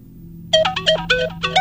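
A mobile phone ringtone in a comedy film scene starts after a half-second of low hum and plays a bright electronic melody of several short, repeated tonal phrases, loud and close, with no talking over it.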